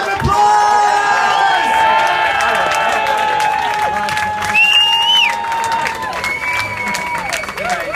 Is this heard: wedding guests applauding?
yes